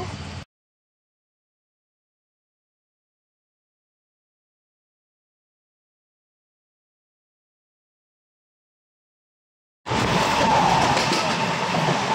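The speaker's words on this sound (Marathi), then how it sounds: "आम्ही ट्रेनमध्ये बसलो आहे." A train rumbling along the rails, heard only in a brief burst at the very start and again in the final two seconds, with silence between.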